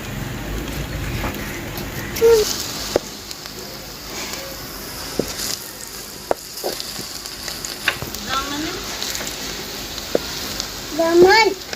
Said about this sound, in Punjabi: ਅਸੀਂ ਇਹ 2-2 3-3 ਕਰਕੇ ਨਾ ਕੋਫਤੇ ਤੇ ਫਰਾਈ ਕਰਾਂਗੇ।